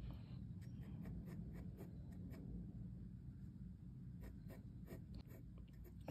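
Pencil drawing a portrait on paper, quiet close scratchy strokes in short repeated bursts over a low steady background hum.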